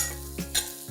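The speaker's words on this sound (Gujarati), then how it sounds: "એને આપણે તેલમાં 1-2 મિનિટ માટે સાંતળી લઈશું." Thick pieces of ivy gourd sautéing in oil over a low flame for an instant pickle, a brief close sizzle with a couple of quick stirring scrapes.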